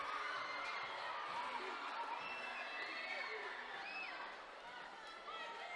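Loud crowd at a junior world weightlifting championship in the men's 81 and 89 kg events, cheering, whooping and shouting continuously throughout, with excited voices dense and sustained from start to finish.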